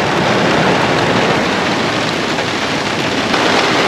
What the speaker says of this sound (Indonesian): Camping sinonim dengan hujan.